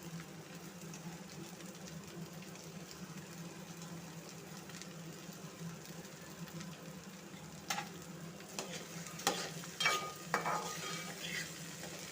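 Chopped okra frying in tempered oil with green chilies in a pan, a quiet continuous low sizzle that turns busier toward the end with a few clicks and scrapes as it is stirred.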